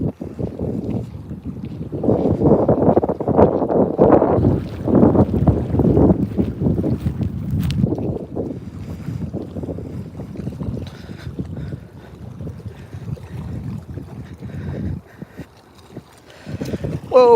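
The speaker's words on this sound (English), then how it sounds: "Let me drive the boat." Boat motor rumbles and buffets with wind noise across the microphone, surging loud then easing off, close and continuous.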